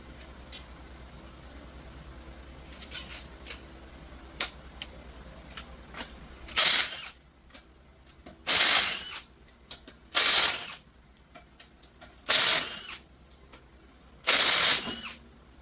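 A ratchet or air tool works on a wheel of a Honda Odyssey, giving several loud, short whirring bursts at regular intervals after a quieter stretch with faint clinks and ticks.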